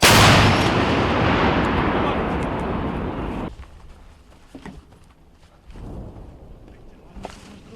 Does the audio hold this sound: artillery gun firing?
yes